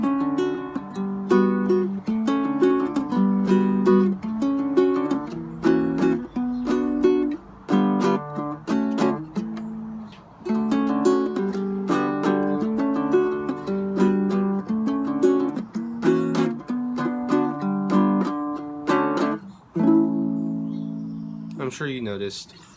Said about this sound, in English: I switched back and forth between strumming and picking.